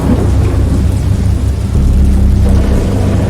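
A thunderstorm in the video game Dagon, with loud, continuous rumbling thunder and heavy rain that carry on without a break and have no talking over them.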